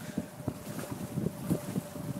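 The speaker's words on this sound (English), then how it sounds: "It's just so windy." Gusty wind buffets the microphone in low rumbling bursts, steady and close, with no voices.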